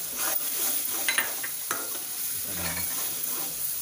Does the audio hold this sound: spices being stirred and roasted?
yes